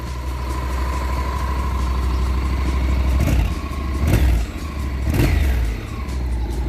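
A 2013 Honda NC700 DCT motorcycle engine idles with a thin, buzzing, sewing-machine-like tone, then blips the throttle in three quick revs that rise and fall back to idle.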